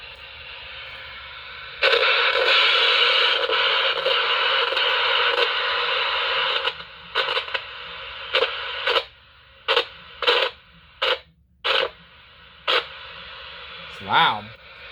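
Old thrift-store portable radio with a long antenna blaring loud static and broadcast noise, which then cuts in and out in short bursts as it is tuned, ending with a warbling tone.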